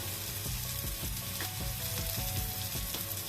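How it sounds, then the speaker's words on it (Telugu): Onions fry steadily in a pan while drumstick curry is cooked, making a loud, continuous sizzle that runs the whole time. Faint rhythmic stirring strokes are heard beneath it. "ఇదిగోండి ఉల్లిపాయలు వేగినాయండి"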